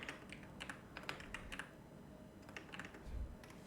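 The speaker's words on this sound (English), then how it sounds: "I'm just going to type in" Fast, uneven typing on a computer keyboard at a PC, a run of light close clicks with short pauses and a soft thump near the end.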